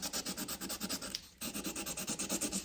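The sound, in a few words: sanding edges of a faucet part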